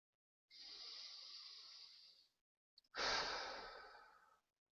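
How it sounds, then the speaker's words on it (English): A person takes slow deep breaths during a guided meditation: one long airy inhale, a brief pause with a small catch, then a fuller, louder exhale, close and quiet, with no talking. "Just take a couple of deep breaths."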